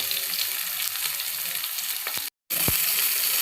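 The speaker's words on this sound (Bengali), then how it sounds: "এটাকে হালকা লাল করে আমি 1 মিনিট মতো ভেজে নেব" Chopped onion and garlic fry with cumin seeds in hot oil as chicken curry preparation begins, making a dense, continuous close sizzle with a few utensil taps, briefly cut to silence, with no talking.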